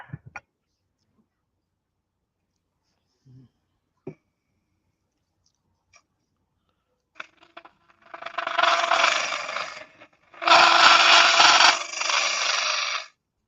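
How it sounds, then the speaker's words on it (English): A wood lathe turning a colored vase, with a tool cutting into the spinning wood in two loud, sustained rushing bursts after a quiet stretch broken only by a few small clicks. "How fast have you got the lathe turning?"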